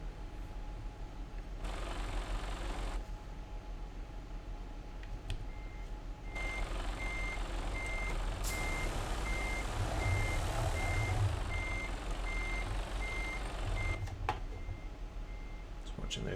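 A truck in Euro Truck Simulator 2 reverses with a steady, evenly spaced reversing beep over a constant engine rumble, while someone talks throughout.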